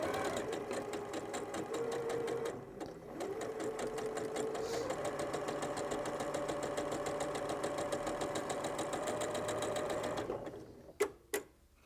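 Sewing machine stitching quilt blocks with a quarter-inch seam, running steadily and close for about ten seconds before stopping, followed by a few sharp clicks.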